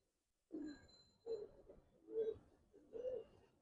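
Giribaz khaki pigeons coo close by in four soft, low, throaty calls spaced about a second apart, with quiet pauses between and no talk.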